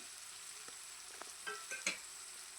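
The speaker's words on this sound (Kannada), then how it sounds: "ಈಗ ಇದರ ಜೊತೆಗೆ ನಾನು ಕಟ್ ಮಾಡಿದಂಥ ಆಲೂಗೆಡ್ಡೆನ ಇಲ್ಲಿ ಹಾಕ್ಕೊಳ್ತಾ ಇದ್ದೀನಿ" Cut potatoes sizzle and fry in a pan for aloo paneer masala, a soft steady crackle with a few sharper spits and stirring scrapes near the end.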